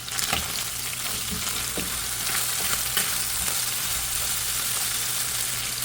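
Small fish frying in a pan, a steady dense sizzle with crackling pops and occasional stirring scrapes, continuous and fairly close, with no talking.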